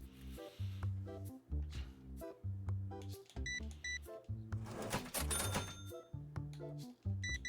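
A cash register chime rings out in the TCG Sim card-shop video game as a card sells, over looping, bouncy background game music, fairly quiet overall.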